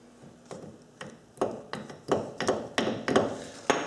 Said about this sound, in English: So take your cotter pin, line it up, and just tap it through.